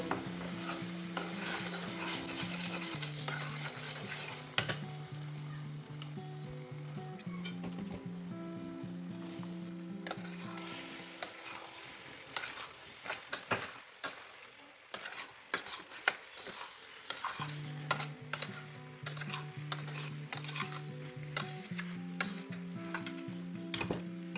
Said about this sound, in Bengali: এটা একটু দু তিন মিনিট কষে নেব